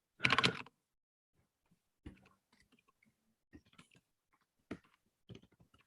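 Typing on a computer keyboard: a quick cluster of loud key clicks, then sparse, irregular taps and short bursts of keystrokes separated by quiet gaps.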